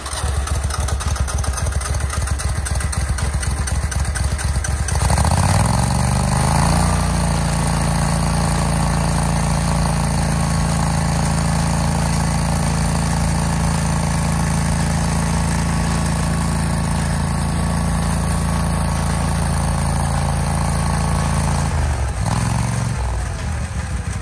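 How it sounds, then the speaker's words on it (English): An Exmark Pac-Man lawn mower engine cranks with rapid chugging, catches after about five seconds, and settles into a loud, steady, close rumbling idle that keeps running, with a brief dip near the end. "The X-Mark Pac-Man mower. Well, let's start it up."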